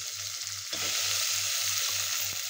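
Chopped tomato hitting a hot pan while frying for veg biryani, a sudden louder sizzle that settles into a continuous close crackle, with a low periodic hum underneath and no voices.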